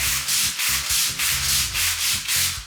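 Rhythmic hand sanding on a bamboo worktop, a steady back-and-forth rasp repeating about every half second, close and even, with no talking.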